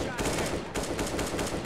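Rapid gunfire from the video game Left 4 Dead 2 rattles in a dense, continuous burst of shots, loud and steady throughout with no voices over it.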